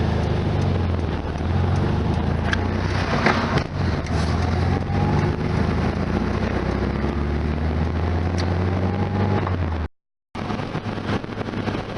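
A 1973 VW Super Beetle, engine running a bit warm, cruises on the highway with a constant loud engine drone and wind roar inside the cabin, broken by a brief dropout near the end.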